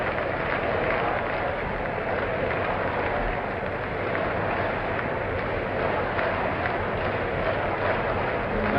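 A convention hall crowd roars and applauds continuously at the 1976 Republican National Convention as Jesse Helms is introduced, a loud, dense, sustained wash of cheering that stays steady throughout.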